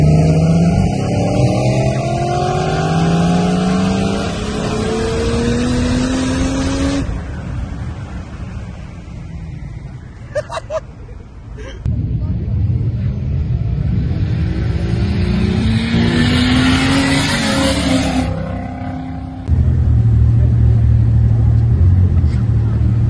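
A turbocharged race car at a night roll race surges through rising engine revs, drops briefly as it downshifts, then roars up again, loud and close, with a voice talking faintly over the engine.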